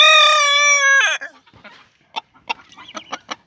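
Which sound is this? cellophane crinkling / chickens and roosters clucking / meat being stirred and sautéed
chickens and roosters clucking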